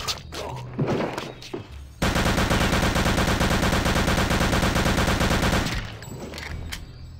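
Sustained automatic weapon fire in the video game Return to Castle Wolfenstein: a loud, dense stream of rapid shots lasting about four seconds before it cuts off into quieter game sounds.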